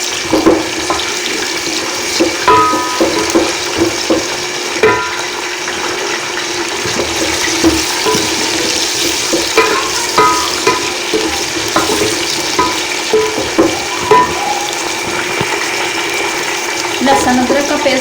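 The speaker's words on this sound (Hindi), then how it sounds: "अब हम डालेंगे इसमें अपना चिकन।" Chicken fries in hot oil for biryani, a loud, continuous sizzle with frequent scraping and clattering from stirring in the pot.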